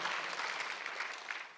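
A church congregation claps together during a Sunday worship sermon, a steady dense patter of many hands that stays fairly even throughout.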